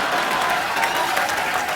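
Studio audience applause on a televised comedy talk show, a loud, continuous burst of crowd clapping filling the whole moment with no gaps.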